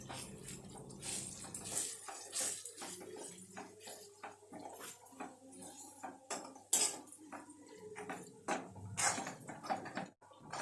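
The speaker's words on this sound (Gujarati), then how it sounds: "આપણે હવે તેની અંદર સિંગદાણાનો પેસ્ટ એડ કરશું અને બરાબર હલાવી નાખશું।" Peanut paste is stirred into a cooked onion mixture in a pan, with a spoon scraping and clanking against the metal in steady, close, busy strokes.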